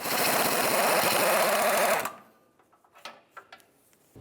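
A 14mm ratchet works an exhaust manifold nut on a 2003-2011 Mercury Grand Marquis, giving a rapid, loud buzzing run of clicks for about two seconds, followed by a few scattered light taps and clinks.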